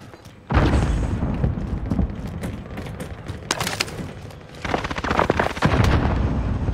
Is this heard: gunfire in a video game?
yes